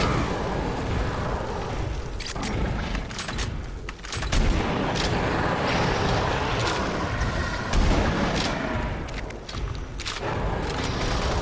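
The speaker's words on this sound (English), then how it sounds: "normal gunfire is actually hurting him" Dense, continuous gunfire in the video game Doom 3: Resurrection of Evil, with heavy booming blasts, loud and relentless across the whole stretch, with no pauses.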